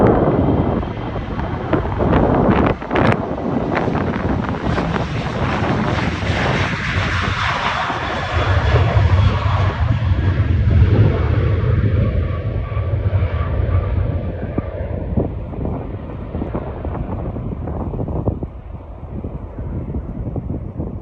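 A Boeing 737 takes off in strong wind at San Antonio International, its engines roaring loud and close and then fading as it climbs away, with wind buffeting the microphone.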